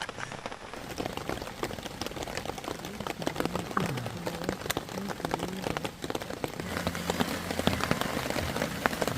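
Heavy rain drums steadily on a DD 4x4 multicam tarp over a hammock camp, a dense, close, continuous patter with no break and no voices.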